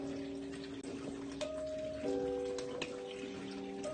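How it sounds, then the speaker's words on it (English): Tap water runs steadily with a splashing hiss, and a low mechanical hum sits underneath. "Let me turn this water off."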